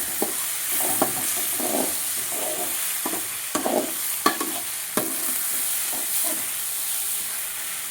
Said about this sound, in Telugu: ఇప్పుడు వేసేస్తాము ఎండు చేపలు. అంత ఒకసారి కలిపేయాలి.